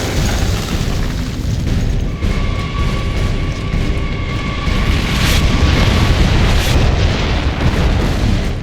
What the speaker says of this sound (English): The mortars have us pinned down!